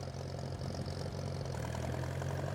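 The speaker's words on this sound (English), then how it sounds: "Tractor, towing the slasher" A tractor engine idling while hooked up to tow a slasher on a farm, a steady low throbbing rumble at a distance, quiet and unchanging.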